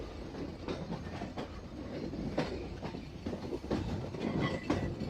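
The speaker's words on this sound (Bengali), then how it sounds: "আমাদের ট্রেন এখানে বিশাল একটি কার্ভ নিচ্ছে" Rupsha Express train rounding a long curve, a steady rumbling roll with rhythmic clicking of wheels over rail joints and faint flange squeal, continuous and moderately loud.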